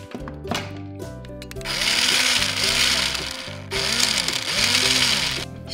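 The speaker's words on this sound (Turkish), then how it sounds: "birazcık mikserle sen de karıştırabilir misin?" Electric hand mixer whirring through a mix of crushed biscuit and cocoa in two steady bursts, loud and close, with a voice and rattling bowl sounds around it.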